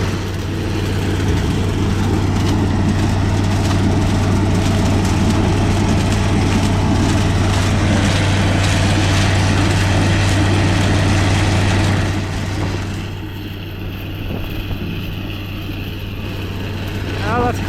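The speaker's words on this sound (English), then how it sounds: "We can really hear the exhaust all right" A New Holland 802A Unisystem corn harvester with an old New Holland head, picking corn. Its engine and exhaust give a loud, steady low drone with a constant hum, easing slightly toward the end.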